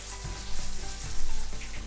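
Tomato puree bolognese sauce sizzles steadily in a pan while being stirred, a close, continuous frying hiss with soft stirring scrapes swelling in waves.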